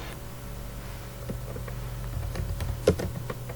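Computer keyboard typing while entering a text label in AutoCAD: a steady run of soft, close key clicks over a low background hum, with one sharper keystroke standing out near the end.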